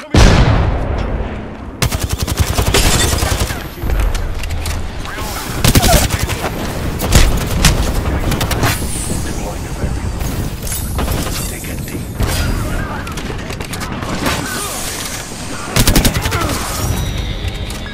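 Sustained automatic gunfire from an Apex Legends match, loud and dense across the whole stretch, with rapid bursts, booming impacts and mechanical clatter layered together, and some faint speech mixed in.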